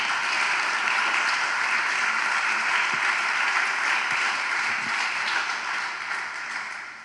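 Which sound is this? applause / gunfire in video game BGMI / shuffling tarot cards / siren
applause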